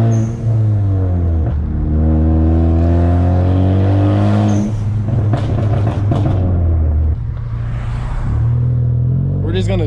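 A tuned car with a loud crackling exhaust tune drives by, its deep engine drone and revving punctuated by sharp pops and crackles that sound like gunshots, loud and close throughout.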